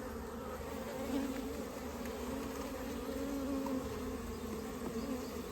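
Honeybees buzzing steadily around an open hive, a dense close drone that holds level throughout with no speech.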